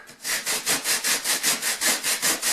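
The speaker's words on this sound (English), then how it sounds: "get me some fine sanding paper, and I can go ahead and start sanding" Steady back-and-forth strokes of fine sandpaper on a kitchen wall, about a dozen rhythmic rasping sweeps, close and loud, with no voices.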